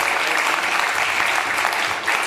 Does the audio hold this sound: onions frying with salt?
no